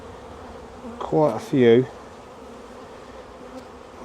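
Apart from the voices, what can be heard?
honey bees buzzing around a hive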